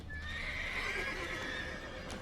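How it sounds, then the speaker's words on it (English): A horse in the video game The Witcher 3 gives a clear, sustained whinny over a background of hoof clip-clops and game ambience, with no talk. "That's why the horse is making all the noise."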